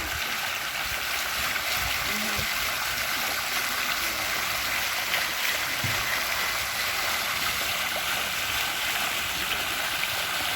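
Steady splashing water from a mushroom-shaped fountain pouring into a pool runs continuously at moderate level with faint background activity.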